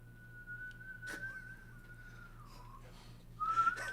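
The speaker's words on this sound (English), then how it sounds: "That's how I blow out candles through a whistle." A mime blows a long wavering whistle to put out birthday candles, the tone holding steady, then bending down and stopping, followed by a short, brighter whistle burst near the end against a quiet room.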